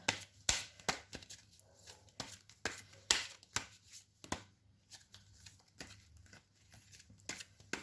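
Tarot cards are shuffled and drawn by hand in a quiet room, a series of sharp, close snaps and riffles at irregular intervals, with soft paper rustling in between and no talking.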